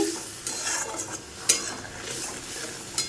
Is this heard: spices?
yes